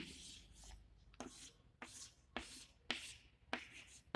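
Marker or chalk strokes on a lecture board as an XOR gate is drawn, a series of about seven scratchy, evenly spaced scrapes heard close with no talking.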